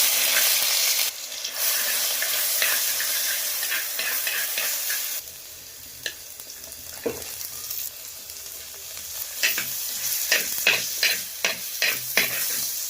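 Crushed ginger, garlic and green chilli paste hits hot oil over popped mustard seeds for a Kerala-style curry, giving a steady close sizzle that softens midway, then a run of scraping stirs and clicks.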